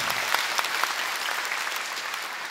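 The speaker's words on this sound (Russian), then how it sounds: "Дай ему хороший аплодисмент." Church congregation applauding a speaker at a gathering in Latvia, a continuous wash of many clapping hands with a few sharper claps standing out, sustained and even throughout.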